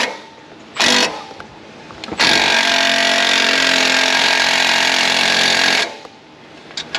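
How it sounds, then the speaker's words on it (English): An impact wrench tightens a nut on the exhaust of a 2007 GMC Sierra 5.3 from underneath, giving a short burst, then a loud sustained hammering run of about four seconds nearby. "One more reach with the impact up into the hole."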